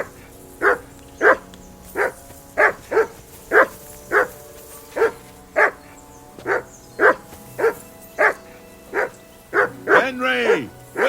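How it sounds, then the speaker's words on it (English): Dog barking steadily in the medieval game Kingdom Come: Deliverance II, about fifteen evenly spaced barks over eleven seconds, close and clear, ending in a rising whiny yelp as a voice talks over the background. "Henry, whistle at that mutt of yours to stop barking."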